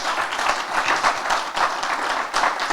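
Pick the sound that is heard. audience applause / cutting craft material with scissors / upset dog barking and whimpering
audience applause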